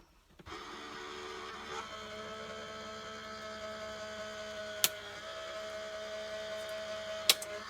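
A die-cutting machine for card crafting runs with a steady mechanical hum and drone, broken by two sharp clicks, close and alone with no talk.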